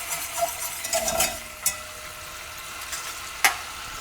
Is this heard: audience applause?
no